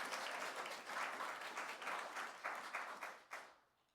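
Applause from a church congregation greeting a newly hired contract minister in training, a steady wash of clapping that swells and dips before fading out near the end.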